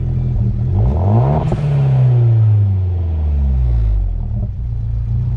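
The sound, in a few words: car engine revving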